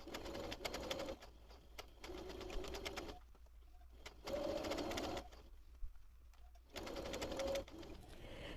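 A sewing machine stitches the edge of a doll's double-sided fabric hat, joining two layers of fabric. Its steady motor whir runs in long bursts, broken by short pauses, close and loud with no talking.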